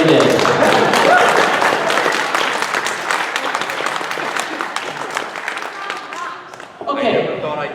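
Audience at a convention panel breaks into loud, sustained applause, dense clapping that gradually thins, with a voice speaking near the end.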